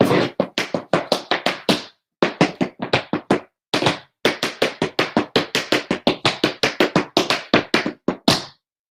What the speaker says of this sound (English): we do dig, brush, heel, cramp roll, and then step